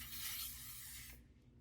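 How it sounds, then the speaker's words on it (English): A close, hissing burst of L'Oreal setting spray lasts just over a second and then stops abruptly, leaving faint room noise. "And I'm gonna use the L'Oreal and Follow spray."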